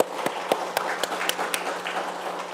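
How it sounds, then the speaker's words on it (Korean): A church congregation at a Sunday worship service claps in a steady, evenly spaced rhythm of sharp claps, about four per second, over a low background hum. "박수 한번 해주시죠."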